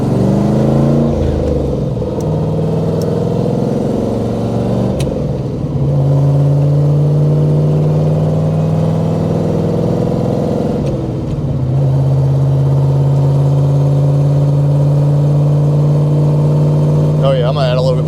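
A big-cammed Chevrolet LT1 V8 with a Comp XFi 292 cam revs hard at wide open throttle, giving a loud, sustained mechanical roar with rising and falling pitch through two long pulls. Speech is faintly present under the engine.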